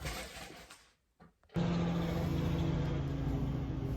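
Toyota Carina II, revived after eight years abandoned, its engine stopping briefly and then restarting into a steady, close, loud idle hum with a low rumble and a faint whine.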